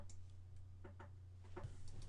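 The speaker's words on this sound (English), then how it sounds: "If you hear that tapping, there's a bird outside my office window." A bird taps on an office window in a quiet room, a few faint, sharp knocks over a low steady electrical hum.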